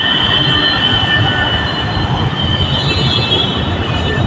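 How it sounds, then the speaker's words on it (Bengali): A metro train runs through a large Delhi metro station near Kalkaji, with a loud, continuous rumble of wheels and a high, steady squeal of steel on rail, and no talk. "এটা হচ্ছে খুব বড় মেট্রো স্টেশন"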